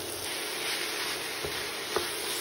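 Ground beef sizzling in a sauté pan for spicy stuffed shells, a steady close hiss and crackle with a couple of soft stirring knocks, no voices.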